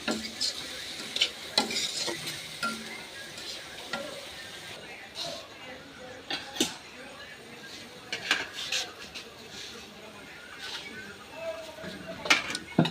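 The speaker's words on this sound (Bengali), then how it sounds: "পাঙ্গাস মাছ ভুনা করা হবে।" A large pangas fish, about three kilos, being stir-fried bhuna style in a pan: steady sizzling with repeated metal spatula scrapes and clinks against the pan, up close, with a voice talking over parts of it.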